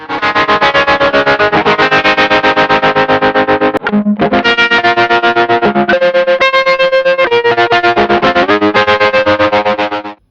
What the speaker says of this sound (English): an absolutely beautiful, like drive distortion / optical tremolo